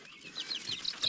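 Chickens in a brooder give soft, quick clucks and chirps in a loose run of short calls, faint and close, with no talk over them.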